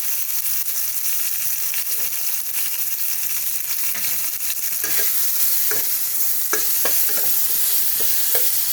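Mango pieces half-frying with salt and turmeric, giving a loud, continuous sizzle close up, with the spatula stirring and scraping more sharply toward the end.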